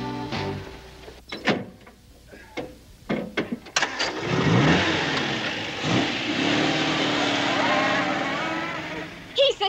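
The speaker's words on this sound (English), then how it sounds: "You'll see a puff of smoke from my exhaust when I cut in the motor." A car engine fires up after a few clicks and thumps, then roars loudly and steadily as it revs and accelerates, a rising whine sweeping through the noise, with a few brief sounds at the very end.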